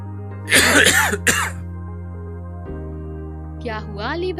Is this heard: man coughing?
yes